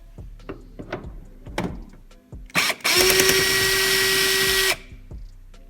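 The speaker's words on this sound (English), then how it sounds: "we got the drill with a T30 on it." A power drill fitted with a T30 bit whirs loudly for about two seconds, steady and high-pitched, after some clunks and rustling of handling nearby, during bodywork on a 2010 Dodge Challenger.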